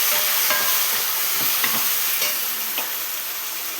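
Chopped tomatoes fry in a pan with cumin seeds, mustard seeds, turmeric and salt, a steady loud sizzle with a few scraping stirs of a spoon and no talking.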